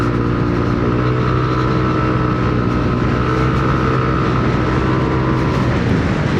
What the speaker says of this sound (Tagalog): Tsaka paparinig ko rin sa inyo yung tunog ng silent killer.